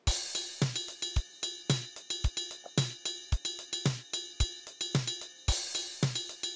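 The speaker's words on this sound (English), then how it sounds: "And maybe you want to know what an ostinato in 5 on the ride bell sounds like over the top of this." Programmed drum sequencer groove with a ride bell playing a repeating five-note ostinato over it, sharp metallic pings layered on steady kick and snare hits in a tight, looping rhythm, clean and upfront.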